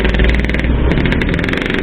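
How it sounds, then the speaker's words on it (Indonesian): A motorcycle engine revs loud and close, a harsh pulsing roar that fills the whole two seconds without any break. "biasanya kalau suara motor ereking gini dia"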